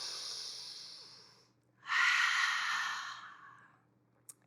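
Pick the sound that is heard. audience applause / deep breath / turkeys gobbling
deep breath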